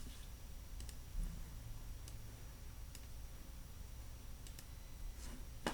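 Sparse, light clicks of typing on a computer keyboard while entering a spreadsheet formula, faint and close, with scattered keystrokes over a quiet background hum.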